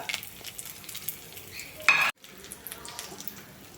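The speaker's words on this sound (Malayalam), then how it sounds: "വെളിച്ചെണ്ണ ഒഴിച്ച് ചൂടാകുമ്പോൾ അതിലേക്ക് കുറച്ച് ഉഴുന്നുപരിപ്പ് ചേർക്കുക അതിനുശേഷം അതിലേക്ക് രണ്ട് മുളക് മുറിച്ച് ചേർക്കുക" Urad dal and cut chillies fry in hot coconut oil, a close, soft, steady sizzle with a short, sharp hiss burst midway.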